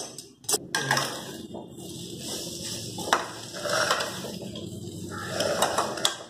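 Vegetables are sautéed in a pan for brinjal rice, with uneven scraping and clattering of a spatula against the metal and soft frying underneath, coming in irregular close bursts.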